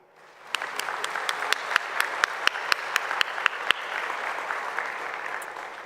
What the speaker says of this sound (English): Please join me in a round of applause for your faculty